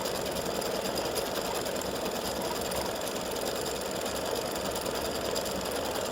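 Embroidery machine stitching out a St Patrick's Day four-leaf clover pendant, a loud, steady mechanical rattle of fast needle strokes that holds an even drone throughout with no voices.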